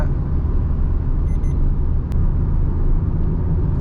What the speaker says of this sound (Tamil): வண்டி க்ரூசிங் நல்லா இருக்குது.